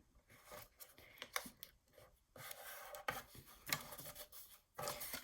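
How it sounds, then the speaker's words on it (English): Paper being folded down along a score line for a Christmas mini accordion album, soft rubbing and creasing strokes with a few sharp crinkles, quiet and close. "let me go ahead and fold this score down."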